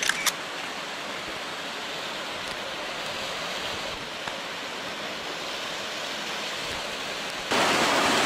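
A high-volume waterfall at Plitvice Lakes National Park in Croatia, where nearly all the water pours down in one place, gives a steady, dense roar throughout. It grows louder for the last moment.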